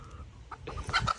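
A rooster clucks and squawks in a few short, close bursts, the calls rising in a scuffle after a fight between birds, over a rumbling low background.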